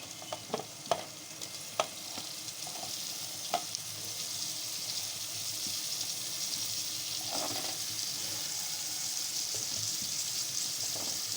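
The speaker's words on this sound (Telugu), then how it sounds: "ఇప్పుడు కట్ చేసుకున్న టమాటా ముక్కలు వేసుకుందాం" Chopped tomato pieces fry in a hot pan with a dense, continuous close sizzle, punctuated by a few sharp spatters and stirring clicks early on.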